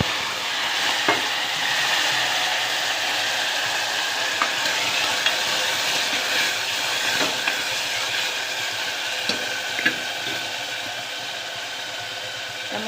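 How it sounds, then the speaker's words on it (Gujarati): Mustard seeds and cumin crackle and sizzle in hot oil as a tempering for a pigeon pea curry, a steady close hiss with scattered sharp pops throughout. "સરસ મજાનો વઘાર થાય છે જોઈ શકો છો"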